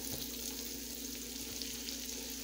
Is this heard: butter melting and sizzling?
yes